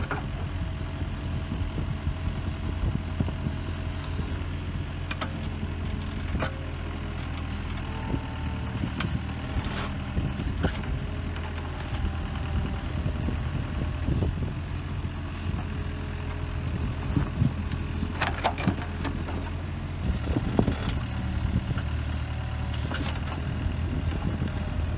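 Heavy digging equipment engines run continuously while a grave is dug on a farm, a deep, steady diesel rumble close by with intermittent clanks and wind buffeting.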